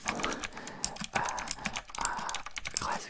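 Typing on a classic style, versatile Bluetooth computer keyboard that works wired or wireless, with plastic keys giving quick, close clacking keystrokes in irregular bursts, with no one talking.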